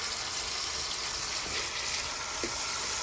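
A spoon stirs a chicken and peas curry in a village kitchen, a soft sizzling bed broken by a couple of brief scraping clinks, fairly quiet with no talk.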